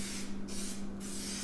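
Spray gun applying clear coat over carbon fiber fenders for a Lamborghini Huracan in a paint setting: a broad hissing spray that cuts off briefly twice, over a steady low compressor-like hum.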